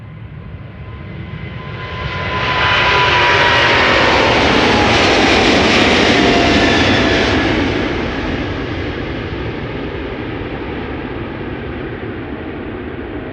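Airliner jet engines roar during departure at Amsterdam Schiphol Airport, a loud broadband rumble that swells to a peak and then eases off while staying steady and continuous, with no voices.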